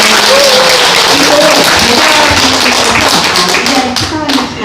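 An audience applauding an essayist at a guest talk event, loud, dense clapping that fills the room and carries on steadily before easing slightly near the end.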